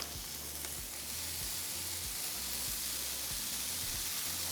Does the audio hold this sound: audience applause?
no